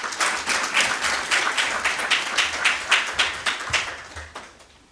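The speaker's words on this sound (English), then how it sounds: "Warm round of applause." Clapping from an audience at a Kenyan moot court competition event, a fairly close, rhythmic round of applause with distinct individual claps that fades out over about five seconds.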